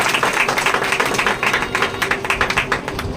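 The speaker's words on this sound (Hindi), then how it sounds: "ताली तो बजा दो दाई खातिर, बहुत अच्छी ताली" A gathering claps for a midwife, steady rapid hand claps blending into a dense, fairly close patter over a few seconds.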